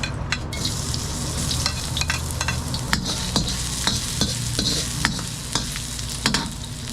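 Ginger sizzles in hot cooking oil at the start of a chicken dish, a loud continuous crackle with scattered sharp pops and clicks of stirring throughout.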